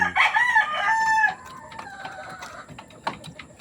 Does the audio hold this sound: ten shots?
no